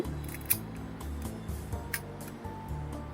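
An Olympus Pen D3 or Pen S film camera is tested, its shutter firing in a few crisp, separate clicks against a low background hum, with no speech.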